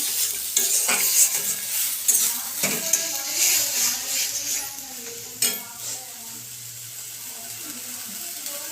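A spice paste is stirred and sautéed in a pan, with bursts of scraping and clatter from a utensil at the start, then a softer sizzle that fades to a low, steady hiss; no talking.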